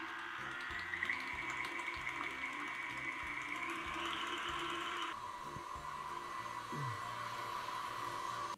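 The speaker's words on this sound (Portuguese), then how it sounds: "aqui a gente bateu os nossos ovos inteiros" An electric mixer beating whole fresh eggs for a sponge cake, a steady whirring motor hum with a pitch shift partway through as the speed changes, continuous and alone.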